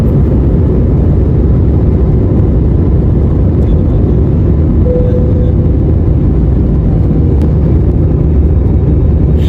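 A passenger airplane on a flight to Puerto Princesa, Palawan roars loudly and steadily from inside the cabin during takeoff, a dense low rumble of engine and wind noise with no talk.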